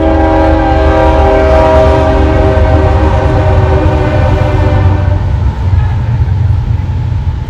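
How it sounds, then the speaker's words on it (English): A passing train sounds a long, loud, sustained horn blast over the rumble of the cars, and the horn holds for several seconds before the noise eases. "The train's like, get on with it."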